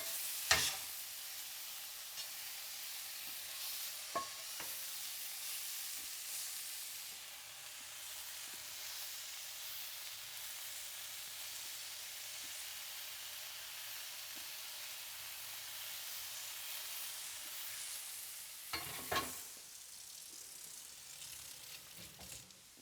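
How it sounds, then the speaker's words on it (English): Spicy garlic meatballs frying in a pan give a steady, even sizzle and hiss, with a few sharper scrapes and knocks of stirring near the start and again toward the end. No voices. "those meatballs should be done fairly soon. Gonna give them another little mix around"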